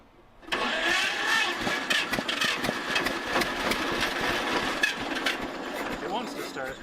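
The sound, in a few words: John Deere Model A tractor engine cranking, trying to start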